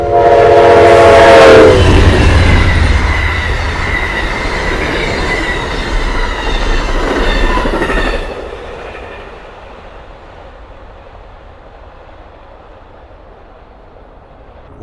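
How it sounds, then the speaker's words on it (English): The Amtrak Crescent passenger train sounds its horn loudly up close, then rumbles past with wheel squeal and rolling clatter. The noise drops off sharply to a faint fading rumble. "the Amtrak 20 Crescent should be coming by here any minute"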